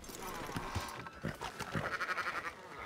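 Sheep in Red Dead Redemption 2 bleating in a short wavering call over steady in-game ambience, fairly close and moderately loud.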